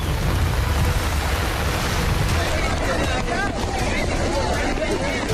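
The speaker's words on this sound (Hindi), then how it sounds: "बारिश भयंकर हो रही है।" Heavy monsoon rain pours down in flooded Rajkot, Gujarat, a dense steady roar across residential streets and roads, with traffic and crowd noise mixed in.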